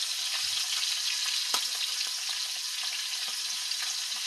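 Steady, dense sizzling of fish frying in hot oil in a pan, loud and close, with occasional sharper pops and crackles over a constant hiss.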